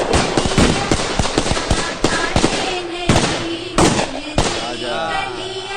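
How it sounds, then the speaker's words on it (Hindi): Guns fired at a wedding procession in a film, a rapid string of sharp loud cracks like firecrackers, bursting irregularly and close, with a faint voice underneath. "ये मंडोर के बंदूकों की आवाज पटाखे की आवाज लग रही है"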